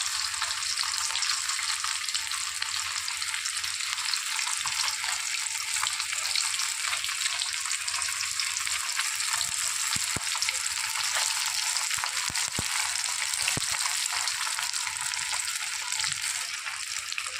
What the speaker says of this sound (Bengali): দু পিস ভালো করে লাল করে ভেজে নিচ্ছি